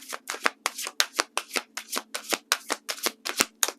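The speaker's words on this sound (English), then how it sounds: "let me just get one more card for Libra" Tarot cards are handled at a reading, giving a quick run of about fourteen crisp flicks and snaps in steady succession, close and clear with no talking.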